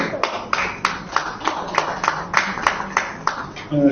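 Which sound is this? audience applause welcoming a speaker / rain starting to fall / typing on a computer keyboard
audience applause welcoming a speaker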